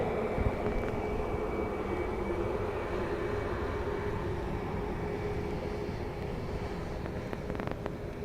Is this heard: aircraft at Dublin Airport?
yes